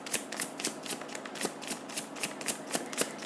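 Tarot cards being shuffled by hand during a reading: a close, crisp riffling that repeats in quick regular strokes, about three or four per second, with no talking over it.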